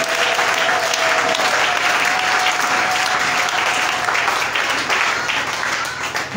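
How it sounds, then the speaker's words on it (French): A church congregation applauds loudly and continuously, a dense wash of clapping that holds steady before easing slightly at the end. "Acclamez pour le Seigneur."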